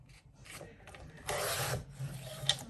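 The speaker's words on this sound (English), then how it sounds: "Let's actually trim it up just above that one." Paper being trimmed for an ephemera folder gives short rubbing, scraping strokes, with one louder sustained rasp in the middle and a small sharp tick near the end, close by and with no talking.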